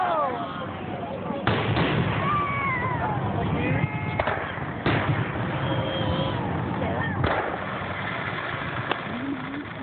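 Fireworks at the Mayor's Cup show in Plattsburgh boom and crackle in a few broadband bursts at a distance, under steady chatter from people talking nearby.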